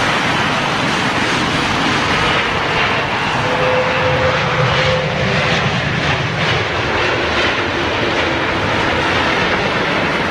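An airliner lands at Heathrow on a windy, stormy day, its Rolls-Royce Trent engines roaring under reverse thrust in a loud, sustained wash of noise that holds steady, with wind buffeting the microphone.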